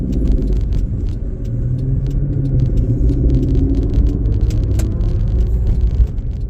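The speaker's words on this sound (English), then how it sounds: "This car going 100 miles an hour." A car driving fast on a road in Pasadena, a loud, steady rumble of engine and tire noise close by, continuous throughout with faint rattles, no talking.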